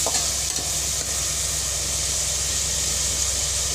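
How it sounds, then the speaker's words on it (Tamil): Garlic cloves sauté in hot oil with a loud, continuous hissing sizzle, close and steady throughout, with faint stirring scrapes underneath. "பூண்டு ஒரு ரெண்டு மூணு பல் போட்டு வதக்கிக்கலாம் இது நல்லா வதங்கட்டும்"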